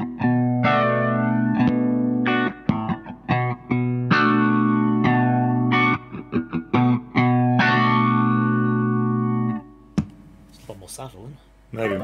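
An electric guitar runs through a PastFX Hot For Flanger pedal with its WALDO switch engaged. Loud, sustained distorted chords carry a sweeping, swirling flange and are broken by short choppy stabs. A brief scratchy noise comes near the end.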